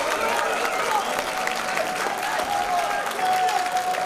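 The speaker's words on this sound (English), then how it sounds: "Ronaldo Shaqiri enjoying the applause here." Fans at a pro wrestling show in Berlin applaud continuously, a dense, steady wash of clapping and crowd noise with a commentator's voice running over it.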